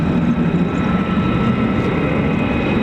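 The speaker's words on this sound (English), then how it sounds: "it carries the world's most powerful engine in a fighter jet" An F-35 stealth fighter roars with its Pratt & Whitney F135 engine, rated at 43,000 pounds of thrust, at RAF Lakenheath's 48th Fighter Wing. The roar is loud, steady and unbroken, with no voices over it.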